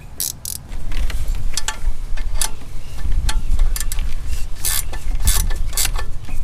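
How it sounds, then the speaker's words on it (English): A flex head ratchet and gear wrench tighten header nuts on a Toyota 3RZ engine, giving repeated quick metallic clicking bursts close up over a low mechanical rumble. "what I'm going to use is just a flex head ratchet and gear wrench to draw them up"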